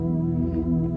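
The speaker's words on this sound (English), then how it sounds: "I've currently got the Lunar Pulse from the Alchemy synth" Lunar Pulse patch from the Alchemy synth in GarageBand playing a sustained dark chord, a dense, steady pad with a gentle pulsing shimmer, loud and alone with no voices.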